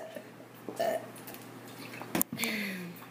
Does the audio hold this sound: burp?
yes